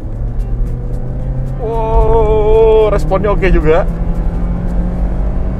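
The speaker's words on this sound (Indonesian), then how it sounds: "Ini suara mesin K20-nya Honda tuh memang nggak bohong sih." A 2009 Honda Civic FD2 with its 2000cc K20 engine revs hard as the driver kicks down from about 50 km/h, the engine note climbing in pitch and then wavering and dropping, heard from inside the cabin while someone speaks briefly.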